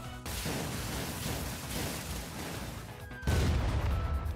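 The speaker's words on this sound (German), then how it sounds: "Ich mach die einfach einmal mit dem Clown-Knutsch-Kutschen-Knaller kaputt." Attack explosion in the Super Mario RPG Remake video game: dense crackling burst fills the scene, then a louder, bass-heavy boom cuts in near the end, with game music underneath.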